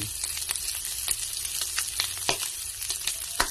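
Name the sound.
garlic frying in oil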